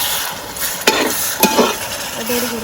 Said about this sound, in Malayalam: പെട്ടെന്ന് വഴഞ്ഞ് അതിലേക്ക് നമ്മൾ വെളുത്തുള്ളി ഇഞ്ചി പേസ്റ്റ് ഇട്ട് കൊടുക്കുകയാണ്. നമ്മളിതിലേക്ക് 3 തക്കാളി ഇട്ട് കൊടുക്കുകയാണ്.